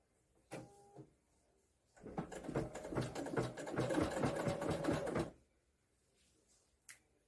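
An embroidery machine stitching an appliqué outline, a couple of short clicks, then about three seconds of fast, even, rattling mechanical stitching that stops abruptly, followed by a faint click.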